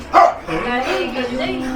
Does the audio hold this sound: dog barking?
yes